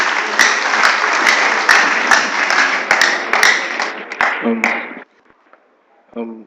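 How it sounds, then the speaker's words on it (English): Audience applause at a mentorship and career development talk, a dense burst of clapping lasting about five seconds before stopping abruptly, followed by near silence and a brief voice. "Please clap for him."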